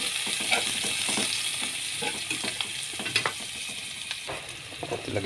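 Onion, garlic and tomato sautéing in a pan for Filipino sarsiado, a constant close sizzle punctuated by frequent spoon scrapes and clinks from stirring, with no voices.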